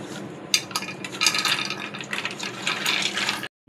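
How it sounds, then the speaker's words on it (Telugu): Peanuts roasting in ghee in a pan, stirred with a utensil, giving a steady rustling, sizzling scrape with a few sharper clinks, close and continuous before stopping abruptly. "ఇదిగోనండి పల్లీలు వేయించుకుంటున్నామండి"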